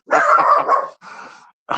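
A dog barks in a quick, loud burst of several yaps, followed by a softer whining bark and a final sharp yip.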